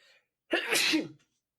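A single sharp sneeze bursts out loud and close, with a brief breathy intake just before it, then silence.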